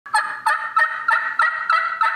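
A turkey gobbles repeatedly, about seven loud rattling calls in a steady rhythm, close and clear with no voices.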